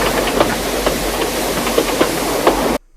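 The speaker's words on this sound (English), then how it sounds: "Toby, with great effort, dragged the coaches all the way to the platform." A Hornby/Bachmann model train engine pulls old coaches with a steady hissing, rumbling chug and faint rhythmic clicks, continuous and close, then cutting off abruptly near the end.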